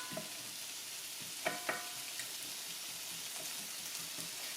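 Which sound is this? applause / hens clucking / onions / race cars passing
onions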